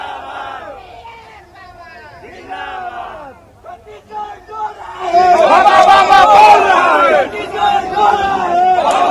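Protesters in Delhi chant slogans in unison, a loud crowd of voices that swells into a dense roaring chant partway through, preceded by a few scattered shouts.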